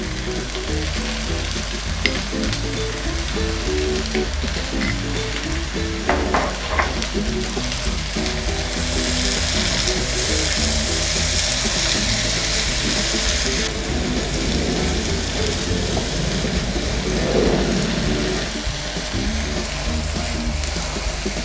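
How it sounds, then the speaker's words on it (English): Steady, loud sizzling and crackling of a pepper mix frying in a pot for Nigerian native jollof rice, continuous throughout with no talking. "So this pepper mix has been frying for the past 20 minutes"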